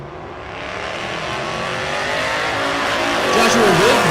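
Ford-powered race cars, a Fox Mustang among them, roar past in a loud sustained engine drone that climbs steadily in pitch as they accelerate, with a rising whine near the end and an announcer talking over it.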